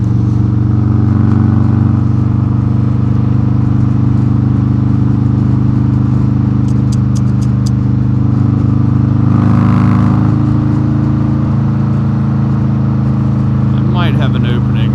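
A 2020 Harley-Davidson Road Glide Special cruising on the highway, its V-twin engine giving a steady, loud, deep drone under heavy wind noise throughout, with a slight swell while passing.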